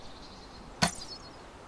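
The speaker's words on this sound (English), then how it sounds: "When you're firing your crossbow, keep a close eye on where the bolts go." A crossbow bolt fired in DayZ: one sharp, snappy twang-thwack with a brief whooshing tail, alone against quiet ambient background.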